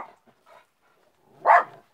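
A dog gives a few short yips, then one louder, sharper bark nearby, with quiet gaps in between.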